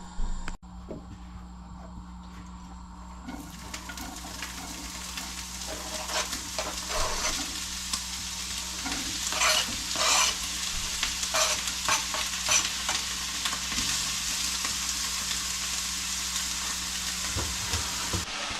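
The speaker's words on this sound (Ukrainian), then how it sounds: "Смажити будемо, як завжди, лучок спочатку, потім додаємо грибочки." After a brief clatter, onion and mushrooms begin frying in a pan and the sizzle builds into a steady hiss, with frequent stirring scrapes throughout.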